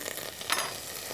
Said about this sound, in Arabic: رح أضيف شوية زيت نباتي مشان الزبدة ما تحترق. نضيف الزبدة